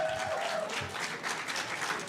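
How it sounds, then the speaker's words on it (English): Audience applause for two student presenters at a youth presentation event on AI in airports, a steady wash of many hands clapping, fairly faint and somewhat distant, with no voices over it. "May we have a round of applause?"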